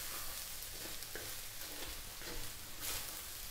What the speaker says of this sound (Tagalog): Haluin ko lang sandali bago tayo maglagay ng paminta at asin.